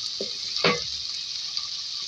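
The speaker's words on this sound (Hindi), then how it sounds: "इसमें साबुत गोल मिर्ची डालेंगे, फ्राई करेंगे" Whole round red chillies fry in hot oil for a chicken dish, giving a steady, bright sizzle throughout, with a brief louder crackle and a soft clink near the start.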